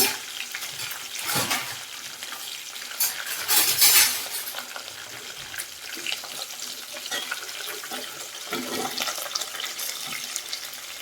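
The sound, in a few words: tempering frying in oil for puffed rice upma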